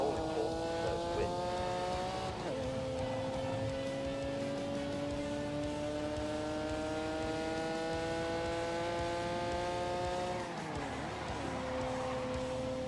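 Porsche race car in The Grand Tour Game, a steady high engine drone holding pitch through a long corner, then a brief drop as it shifts and pulls away again, loud and continuous.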